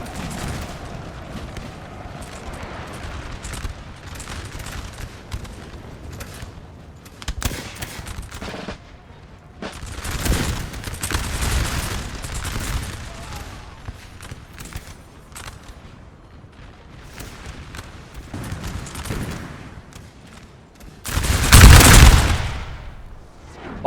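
Napoleonic musket and cannon fire in a Napoleon Total War battle, ragged volleys of gunfire rolling on and off over a continuous battlefield din, ending in one loud close burst.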